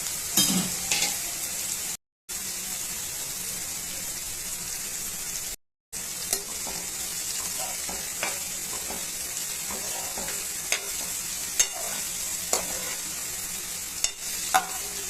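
Onions and curry leaves sauté in a pan for a Kerala-style tapioca snack, a steady soft sizzle with occasional stirring scrapes and clinks running the whole time, with two brief gaps of silence.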